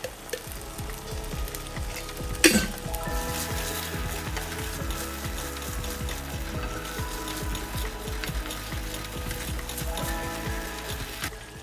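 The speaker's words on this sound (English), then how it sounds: "Mix everything well and continue to cook until the jaggery melts" A mixture of halim seeds and jaggery cooks in ghee while being stirred, with a continuous sizzle broken by repeated scraping strokes and one sharper clatter near the start.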